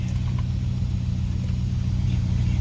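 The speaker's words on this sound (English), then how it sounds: "Driving the 51 Mark 7 following" A 1951 Jaguar Mark VII being driven, steady low engine rumble and road noise heard from inside, continuous and fairly loud with no talk.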